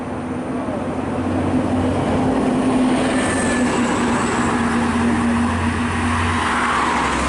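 Tour bus with an Adi Putro body on a Sumatra highway near Pekanbaru, a steady loud engine drone and rolling road noise holding close throughout as it drives past.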